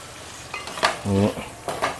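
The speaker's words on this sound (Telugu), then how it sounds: "కారం వేసుకొని కట్టి మొత్తం తిప్పేసుకొని" Mutton curry being stirred in a pot just after chili powder goes in: a few short scraping strokes of a spoon over a soft sizzle, with one brief metallic ring midway, close and fairly loud.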